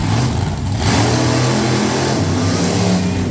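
Monster truck Crustacean, the Monster Lobster, revving hard at the start of a race at a Middletown, NY monster truck event, a loud, steady, roaring engine drone that carries throughout with no pause.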